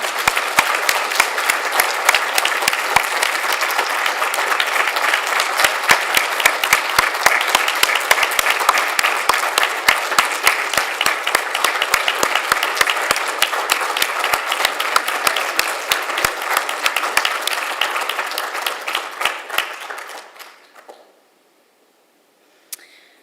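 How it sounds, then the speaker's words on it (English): Loud, sustained applause from a large audience at a medical school alumni awards ceremony, dense clapping for about twenty seconds before it fades out abruptly. "Let's give one more round of applause for all of the recipients."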